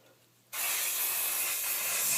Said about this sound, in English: Take a little bit of your dry shampoo.